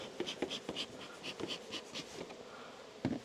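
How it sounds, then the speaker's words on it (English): Bees buzz around a small colony hive, the close, uneven droning rising and falling in short bursts with a few sharp knocks and taps from the hive work nearby. "We've got plenty of bees in there"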